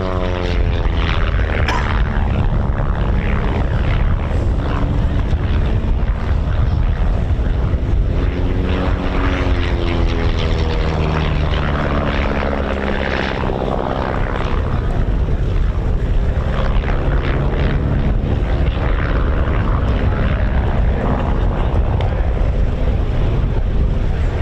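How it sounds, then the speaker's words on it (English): A silver de Havilland Chipmunk propeller aircraft flies an aerobatic display at an airshow, its engine droning continuously with rising and falling pitch as it manoeuvres, mixed with wind noise, no voices. "our silver Chipmunk has climbed the height. And he's going to run in now and give us a display of just how manoeuvrable the Chipmunk is"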